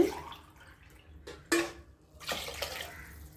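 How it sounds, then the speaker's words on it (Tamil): Water pours into a cooking pot of rice with dissolved tamarind and turmeric for tamarind rice, quiet soft splashing and trickling with a couple of brief louder gushes, no talking. "தண்ணி ஊற்றிக்கலாம்பா. 1க்கு 2"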